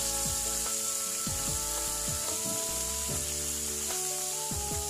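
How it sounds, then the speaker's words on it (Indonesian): Tempeh fries in hot oil beside fish in a village kitchen, a constant close sizzle with occasional scraping and clinks of a utensil against the pan. "Ini kita bisa di sampingnya goreng tempenya."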